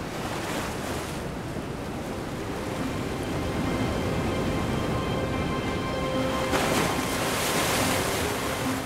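Steady rush of sea surf breaking and washing in, broad and continuous, with some wind buffeting; the surge swells louder toward the end.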